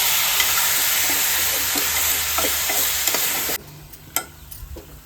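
Cashew mutton masala being stirred and fried in a pan, a steady close sizzle broken by repeated scrapes of a spoon, then quieter as the heat drops, with a few sharp clinks at the end.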